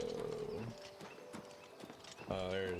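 Horse hooves clip-clop in a video game while someone talks over the steady footfalls, with music and game effects layered underneath.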